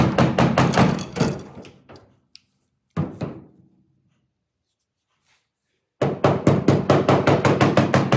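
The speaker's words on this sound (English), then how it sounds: "Might use a hammer a little bit." Hammer blows on a car body panel during a Ford Galaxie build, bursts of rapid sharp metallic strikes in quick rhythmic runs separated by silent pauses, close and loud.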